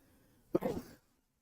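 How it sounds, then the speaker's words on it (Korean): A single short, muffled cough up close, followed by silence. "열받으니까 기침 나네요"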